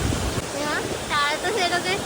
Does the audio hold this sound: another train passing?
no